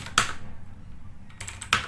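Keyboard keystrokes typing an email address: a couple of sharp, close clicks near the start and a short burst of taps at the end, with a quiet gap between them and no talking.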